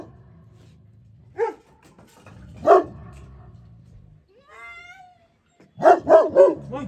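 A white dog in a corner of a home barks in short bursts: single barks, then a soft whimper, then a quick run of three or four loud barks close by. There is no talk.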